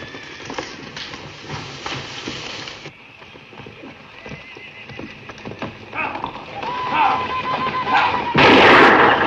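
Horses gallop and neigh loudly and close in a 1958 western film, with a steady clatter of hooves, sharp bursts resembling gunfire, and a shrill whinny rising near the end.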